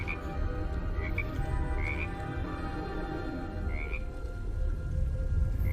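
Frogs croak repeatedly in a steady, dense outdoor chorus, with a few brief higher chirps rising above the low rumble now and then.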